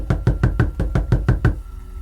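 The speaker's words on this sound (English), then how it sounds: "it was a constant loud knock that didn't stop at all" Loud, rapid knocking on a door, about eight hard evenly spaced raps in quick succession, close and forceful, then a sudden stop.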